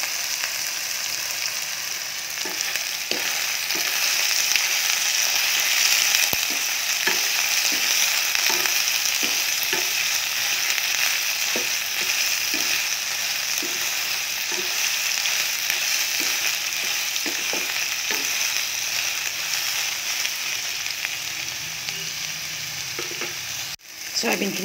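Soybeans sprinkled with a little salt and turmeric fry in hot oil in a wok, making a steady, close crackling sizzle throughout, dotted with light clicks and scrapes of stirring.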